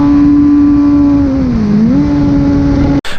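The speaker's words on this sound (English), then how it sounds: "drop down a gear so we've got enough power to zoom off down the hill" A car on the Cadwell Park race track holds a loud steady engine tone that dips briefly as it drops a gear, then climbs back and carries on before cutting off abruptly.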